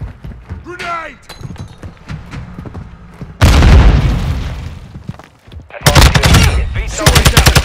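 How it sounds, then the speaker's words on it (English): In Modern Warfare II, a grenade bursts in a heavy blast, followed by loud bursts of rapid Taq 56 gunfire, with voices calling out in between. "Grenade!"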